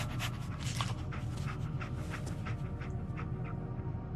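Dogmeat, the dog companion in Fallout 4, pants steadily and close over a constant low background hum, with no voices.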